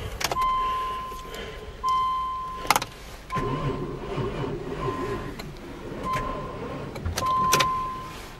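A Ford Probe GT with a 2.5 V6 struggles to crank on a cold start at minus ten degrees, the starter grinding slowly in several separate bursts with short pauses between attempts.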